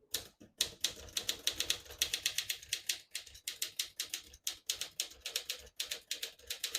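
Fast, steady keystrokes clack on a 1956 Smith-Corona Silent-Super portable typewriter, each sharp strike close and clear in a continuous rhythm with brief pauses.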